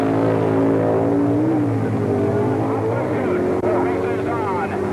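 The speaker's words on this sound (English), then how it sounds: "where Arlen Banky's Barracuda goes at it with Wally Booth's Quick Camaro" A 1960s drag race between a Barracuda and a Quick Camaro produces a steady, loud roar of high-revving engines, with pitch slowly rising as the cars accelerate, under a narrator's voice.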